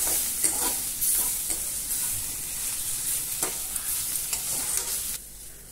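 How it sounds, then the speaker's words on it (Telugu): Fenugreek leaves fry in hot oil and get stirred steadily, a continuous close sizzle broken by repeated scraping stirs before it cuts off near the end. "మాడిపోకుండా ఇలా కలుపుతూ వేపుకోండి."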